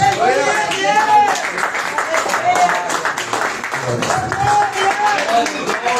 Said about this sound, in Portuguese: Podeis assentar e glorificar a Deus com palmas também para Jesus.